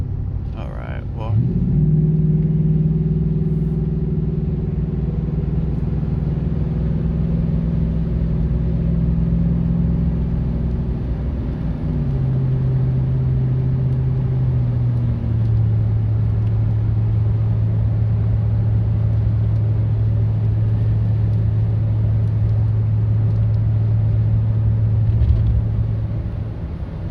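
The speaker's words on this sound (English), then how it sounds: "And that is the '09 Ram. Very good driving truck." A 2009 Ram 2500 pickup truck with a 5.7L engine runs steadily with a deep, close rumble, idling after start-up and dropping to a lower hum partway through, with no talk.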